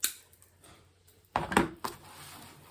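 Scissors snip off a piece of deco mesh while a fall farmhouse pumpkin wreath is made, with a sharp cut at the start and a cluster of crisp snips and rustles near the middle.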